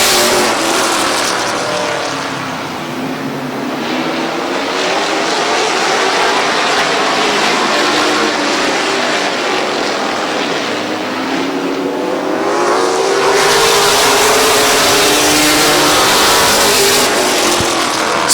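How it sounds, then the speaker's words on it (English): CRS Truck Series race trucks roar off on the green flag at Midvale Speedway, a loud, sustained blend of engines accelerating together and swelling as the pack passes close by, with no talk over it. "Green flag for 35 laps of CRS Truck Series Racing."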